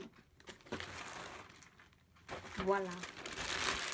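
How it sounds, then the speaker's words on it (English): Plastic bubble wrap packaging crinkling and rustling as it is handled, in bursts of crackly noise across a few seconds, close and fairly loud, with a voice speaking briefly. "Ooh! Bubble wrap!"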